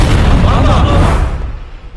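A loud bomb explosion sound effect bursts as a dense, heavy roar that fills the moment and then fades and thins out over about two seconds.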